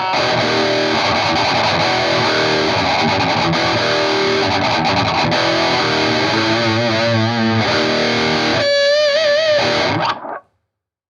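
Heavily distorted electric guitar plays loud, dense riffing that ends in a squealing, wavering pinch harmonic before cutting off abruptly.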